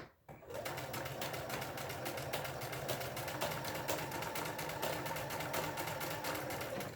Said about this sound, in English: I'm going to come forward 1 stitch and then head straight for where I started sewing.